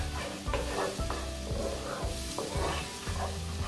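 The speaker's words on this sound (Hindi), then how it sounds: "और इसे हम मीडियम आंच पर इसे हम भूनेंगे।" Masala for restaurant-style matar paneer sizzles steadily in a pan over medium heat, with a spoon scraping and stirring in a regular rhythm, close and continuous throughout.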